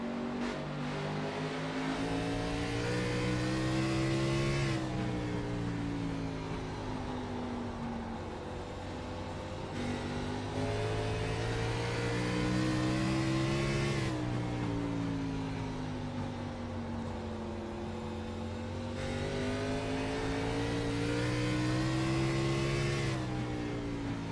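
Onboard race car engine during a lap of the Pensacola 150 Saturday Night Thunder race, steady high revving pulling through gears, rising and falling in long cycles as the car accelerates down straights and lifts for corners.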